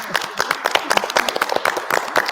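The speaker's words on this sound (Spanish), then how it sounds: "yo les quiero dar un aplauso a cada uno de los panelistas" Audience applauding the panelists at a Spanish-language ESG panel debate, a small crowd of dense, continuous hand claps that keeps up steadily and fairly loud throughout.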